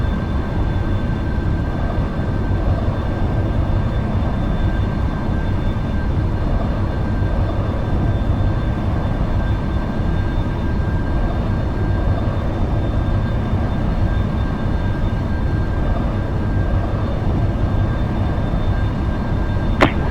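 A Turkish Airlines Boeing 787-9 Dreamliner takes off at Jakarta, heard as a steady, loud broadband jet roar with faint whining tones that hold evenly from start to finish.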